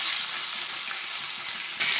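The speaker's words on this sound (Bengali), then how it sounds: "সুন্দর করে লাল করে ভেজে নিচ্ছি।" Fish pieces shallow-frying in a pan until reddish-brown, a steady close crackle and hiss that holds evenly throughout with a slight swell near the end, no voices heard.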